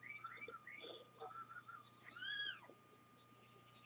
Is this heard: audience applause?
no